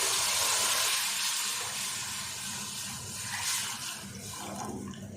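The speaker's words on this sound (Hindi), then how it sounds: "मैं इसमें फ्रेश मिल्क ले रही हूँ।" Fresh milk is poured into roasted semolina in a pan for kheer, giving a steady rushing, hissing liquid sound that is strongest at the start and eases slightly as it continues.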